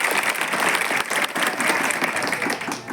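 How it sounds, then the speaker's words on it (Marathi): Applause from a school audience fills the space, a dense, steady clatter of many hands clapping together at close range with no pause. "माझं भाषण आवडलं असेल तर जोराने टाळ्या वाजवा"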